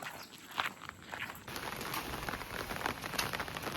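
Steady rain patters on a hard surface, growing denser after a moment into a constant hiss with scattered heavier drops.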